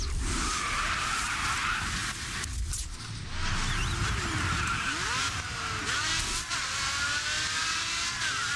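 Car skidding and spinning out in the GRID 2 racing game: a loud, continuous tire-squeal screech over engine roar, with sliding squeals that rise and fall throughout.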